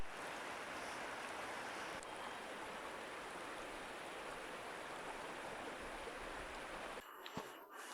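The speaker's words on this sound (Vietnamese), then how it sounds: "tiếng suối róc rách vẫn văng vẳng bên tai" A babbling mountain stream in the autumn countryside of Mongolia gives a steady, soft rushing murmur. It runs evenly for about seven seconds, then cuts off abruptly, leaving a few faint knocks.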